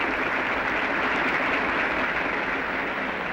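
Cricket crowd at a Test match rising in a sustained, dense wave of applause as Don Bradman walks out to bat in his last innings, steady and loud throughout without pause.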